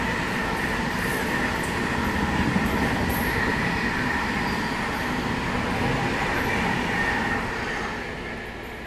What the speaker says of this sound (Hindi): प्रयागराज एक्सप्रेस आगे निकल गई। ये पूर्वा को ओवरटेक मार के आ गई लग रहा